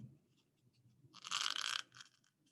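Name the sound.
cutting a slit in an egg carton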